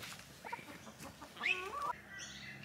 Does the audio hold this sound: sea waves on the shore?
no